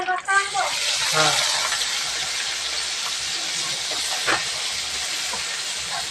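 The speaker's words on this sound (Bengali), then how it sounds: "এই তেলের মধ্যে আমি এই চুনা সুটিগুলো একটু হালকা করে ভেজে নেবো" Small dried fish (chuno shutki) frying in hot oil in a pan give a loud, steady sizzling hiss that continues throughout, with a brief voice near the start.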